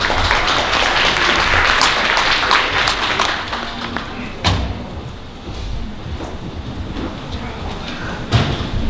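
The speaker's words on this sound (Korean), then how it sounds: "박수로 맞아 주십시오." Audience at a FINTECH 2018 conference hall applauds to welcome a presenter, dense clapping that is loudest at first and then thins out into scattered claps.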